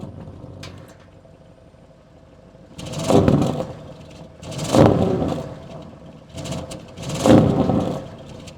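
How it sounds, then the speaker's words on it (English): A 2023 Audi RS6 with a blacked-out high performance valved exhaust revs three times at idle, each loud deep blip rising and falling back to a low idle between them, with no voices. "Blacked out is the high performance exhaust system, which has valves, sounds really good."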